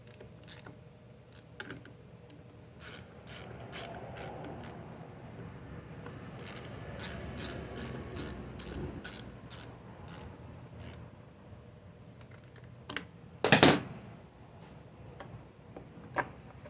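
A ratchet tightens a carburetor fitting on a Stihl SH55 blower vac in a quick series of close, crisp clicks, broken by short pauses, with a brief louder clatter near the end.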